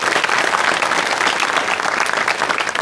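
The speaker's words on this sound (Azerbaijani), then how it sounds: "Bu münasibət onlara bir alqışlayaq." A theatre audience at a comedy show applauds, dense and loud steady clapping from a large crowd throughout.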